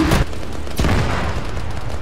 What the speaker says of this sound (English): Crack grenade, go!